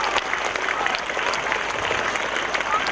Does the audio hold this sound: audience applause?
yes